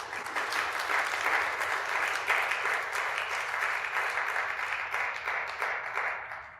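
An audience applauding after a performance in Christopher Harding's piano master class: sustained, even clapping from a modest crowd, fading slightly at the end.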